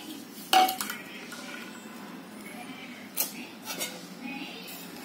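Dry fruit, grated coconut, sesame seeds and powdered sugar being mixed for a karanji filling, with a sharp clink of a spoon against a metal pot followed by scattered lighter scrapes and taps, fairly close.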